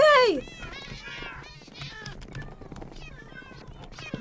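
A cat meows in a Minecraft game, a bright rising-and-falling call at the very start, followed by busy game sounds with talking throughout.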